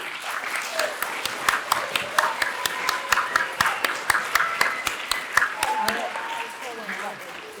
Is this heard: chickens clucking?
no